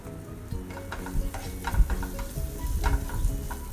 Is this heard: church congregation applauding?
no